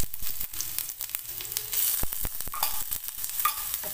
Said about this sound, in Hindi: तेल गरम होने के बाद इसमें हम डालेंगे अदरक लहसुन का पेस्ट।